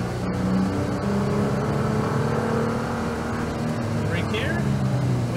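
A Nissan GT-R's engine drones steadily through a lap on a racetrack, a continuous loud, even roar with slight rises as it accelerates out of a turn, with no pauses across the stretch.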